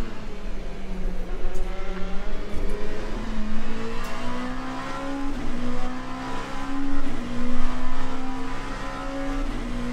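Race car engine in Le Mans Ultimate on the Sebring circuit, a loud continuous whine rising steadily as it accelerates through the gears, alone with no talk.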